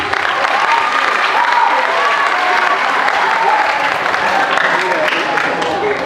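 Steady, dense audience applause fills a religious Isra and Miraj gathering in 2021, loud and continuous for about six seconds with faint voices mixed into the crowd noise.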